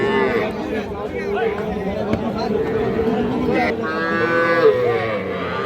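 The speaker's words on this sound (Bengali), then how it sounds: "এই যে এখানে একটা ষাঁড় বাছুর দেখতেছি" Cattle lowing loudly and repeatedly at a busy livestock market, with a young bull calf among the animals; long overlapping moos rise over a steady murmur of crowd chatter and nearby voices.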